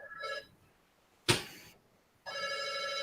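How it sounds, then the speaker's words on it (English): Telephone bell ringing in two bursts, the second long and steady, with a sharp loud clack between them; fairly close and clear with no talk. "Somebody should definitely get that phone."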